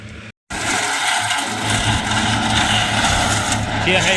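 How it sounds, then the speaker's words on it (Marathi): A tractor engine runs steadily in a farm field, a loud continuous low rumble right after a brief dropout, with no pauses through to the end. "ट्रॅक्टर"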